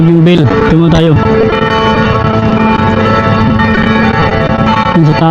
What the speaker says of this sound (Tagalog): Yung bell, nagatunog na yung bell.